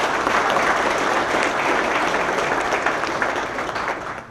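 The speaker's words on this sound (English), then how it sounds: "Let's give him a round of applause." A crowd at a police chief swearing-in ceremony claps steadily, a dense sustained round of applause close and loud that tapers slightly toward the end.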